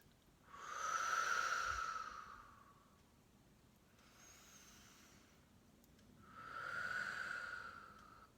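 Slow, deep breaths during a guided meditation: a long, airy inhale swelling and fading, a softer breath after it, then another full breath, all close and quiet, with no talking.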